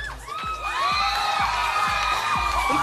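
An audience cheering a contestant on a Philippine noontime TV home-visit contest: loud, continuous crowd shouting and whooping with children's voices, over a steady rhythmic thump, filling the whole moment.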